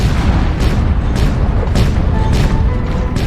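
Rapid AC/2 autocannon rounds from a BlackJack mech striking an enemy mech in MechWarrior Online, with loud booming impacts repeating roughly every half second over a dense, constant roar of battle.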